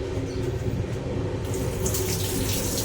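Steady running water pours from a tap on an intercity express train, a continuous close rushing hiss with no voices.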